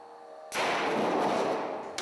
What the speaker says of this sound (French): On vient de s'apercevoir qu'il y a eu une explosion, donc qui a projeté à plusieurs centimètres la batterie.